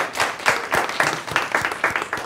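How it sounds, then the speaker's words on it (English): Audience applause for a group of panelists at a discussion event, scattered clapping in short uneven bursts across a brief stretch, moderately loud and without talk over it. "if we get another round of applause for everybody."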